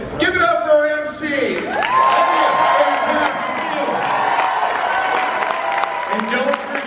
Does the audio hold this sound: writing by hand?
no